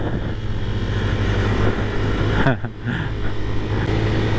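A jeep drives up a steep road toward a hilltop landing point, its engine a steady low drone throughout, with a brief dip and rush of passing noise midway.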